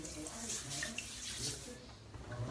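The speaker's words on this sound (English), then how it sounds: "So what I'm going to do is I'm just going to wet my head." Water running from a tap while a head is wetted before a shave, a steady hissing splash with faint shifts in flow, fairly quiet and close.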